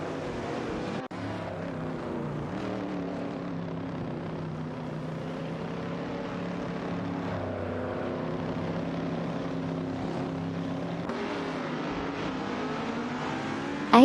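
Video game racing cars, a Lancia Stratos HF battling a Ford Escort, roar steadily around a track, a continuous layered engine drone with no break and no voices.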